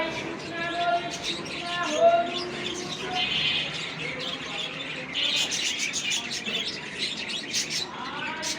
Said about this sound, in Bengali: আরে পাখিদের কিচির মিচির